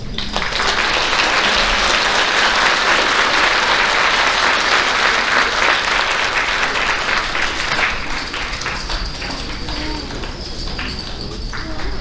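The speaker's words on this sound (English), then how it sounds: "Fourth grade, a round of applause." Applause from an audience at an elementary school awards ceremony, a steady dense round of clapping sustained for about twelve seconds, loud and close, tapering slightly near the end.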